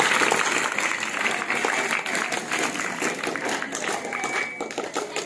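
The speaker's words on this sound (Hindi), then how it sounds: "तालियां जोरदार तालियां।" Applause at a school prize distribution, a dense crowd clapping steadily and loudly for the full stretch without pause, with faint voices mixed into the clatter.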